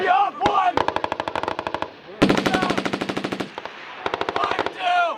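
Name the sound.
machine gun section firing, Marine Corps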